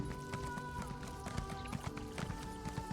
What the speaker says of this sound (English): We will take a horse